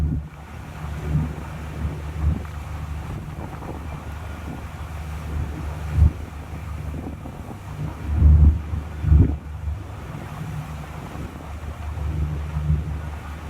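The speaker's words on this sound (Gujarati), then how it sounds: "દ્વારકાના દરિયામાં તોફાન વચ્ચે સમુદ્રમાં ફસાઈ માછીમારોની બોટ" Stormy sea off Dwarka, where a fishing boat was caught in rough weather: wind buffets the microphone and waves surge with a constant roar, and a few heavier gusts or crashes stand out along the way.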